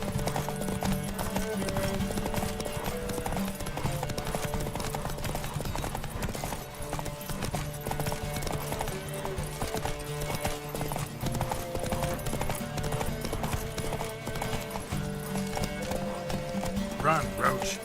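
Roach the horse gallops in The Witcher 3, a steady run of hoofbeat clip-clops with a brief whinny, carried over a continuous music bed with talk layered on top throughout.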